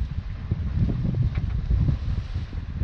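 Steady wind blowing and buffeting on a sailboat crossing Lake Michigan, about 17 knots apparent wind while close-hauled, a loud continuous low rumble with gusty surges throughout.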